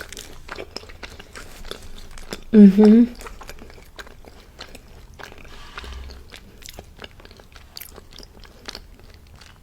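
Oreo cookie bitten and chewed close to the mic at a mukbang, one loud crunchy bite followed by quieter chewing.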